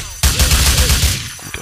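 A quick burst of several gunshots in Grand Theft Auto IV fires in rapid succession, loud and close, then fades into a short echoing tail.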